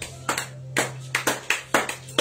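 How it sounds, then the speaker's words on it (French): Congregation clapping in a church, a brisk run of about ten sharp, fairly loud bursts of applause at an uneven rhythm, with a steady low hum beneath. "Applaudissons le Seigneur."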